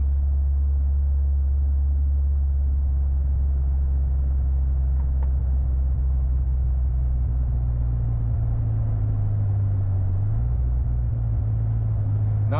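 A 1984 Ford LTD Crown Victoria engine runs steadily at high RPM, a loud, continuous low rumble that holds throughout with a slight shift in pitch near the end, no voices heard.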